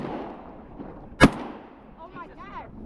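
A single sharp 20 gauge shotgun blast fired at a bird on a small island, one loud crack with a short tail after quiet talk and a faint whistle-like call.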